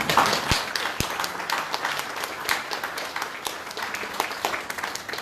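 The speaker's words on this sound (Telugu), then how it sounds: "ఒకసారి గట్టిగా తల్లులకి చప్పట్లు కొడతాము" A church congregation at a worship service applauds the mothers, with dense, lively clapping from many hands that carries on steadily throughout.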